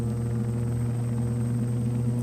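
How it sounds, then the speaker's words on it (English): Steady, continuous helicopter rotor drone in Microsoft Flight Simulator X, a loud unbroken hum holding evenly throughout with no talk. "It sounds like there's a chopper."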